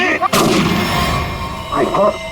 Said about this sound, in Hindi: इसने गोली चलाई।